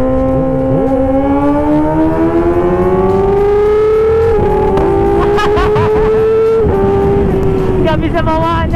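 A Kawasaki ZX-4RR motorcycle racing on a touring ride, its engine revving in a loud, rising whine that climbs steadily through the gears with brief dips at shifts, close and continuous.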